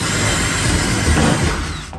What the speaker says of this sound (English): Simply running right through with a 1/4-inch drill bit up through the existing holes.